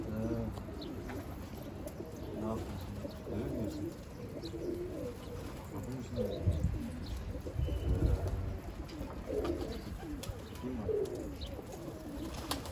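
Pigeons coo repeatedly on a rooftop among about two hundred birds, with steady soft cooing and rustling throughout, fairly close, with no talk over it.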